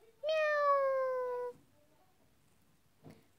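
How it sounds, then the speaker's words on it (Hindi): A single drawn-out cat meow, clear and fairly close, sliding slightly downward over about a second, followed by quiet and a faint brief sound. "बे से बिल्ली. ब ब ब. म्याऊ."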